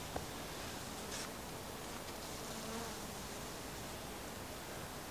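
A dense, steady hum of honeybees buzzing around a hive in wintertime, continuous and close, with light rustling and no voices.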